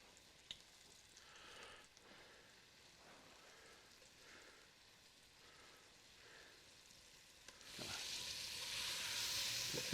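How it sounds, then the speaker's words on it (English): Aoudad sheep meat dredged in flour browns in a hot pan for carne guisada, sizzling steadily and softly before the frying swells louder and brighter near the end, with no talk over it. "We're getting a good sizzle, so we don't want to overcrowd this."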